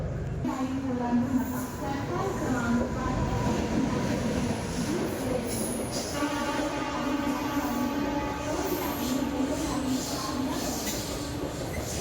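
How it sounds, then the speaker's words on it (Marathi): A train idles and creaks at Banda Terminus station, with screeching wheel and brake tones and murmuring people in the background, fairly loud and close. "आपण इथे आहोत बांदा टर्मिनसवर आणि ही आहे रेल्वे"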